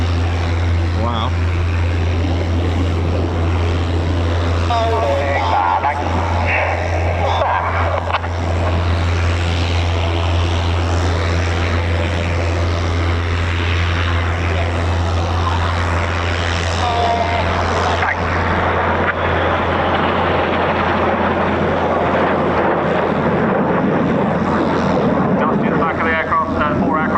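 Red Arrows jets fly in formation at an RAF Cosford air show, a continuous loud roar of engines with a steady low drone beneath, while a voice speaks over it throughout.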